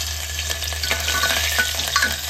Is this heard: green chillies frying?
yes